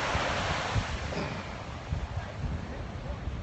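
Ocean waves at Malibu beach, a steady soft wash of surf mixed with wind rumbling on the microphone, fairly quiet and continuous with no talking.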